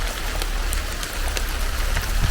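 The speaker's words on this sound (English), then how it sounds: "it's still throwing it down and it's still hailstoning." Heavy rain mixed with hail pelting down on an allotment, a loud, close, continuous clatter of drops with scattered sharper hits and no talking.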